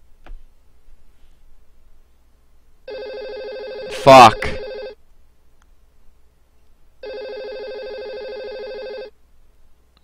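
Telephone rings twice in long electronic bursts about four seconds apart, loud and clear, with a short exclamation from a man in between the rings.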